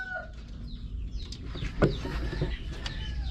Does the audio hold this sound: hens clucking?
yes